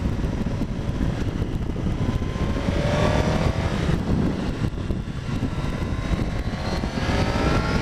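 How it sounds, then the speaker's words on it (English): Suzuki GSX-R1000R sportbike at full throttle, a loud, continuous engine roar with rising rev sweeps as it accelerates hard, heavy wind rush over it throughout, no voices. "Full twist on the throttle."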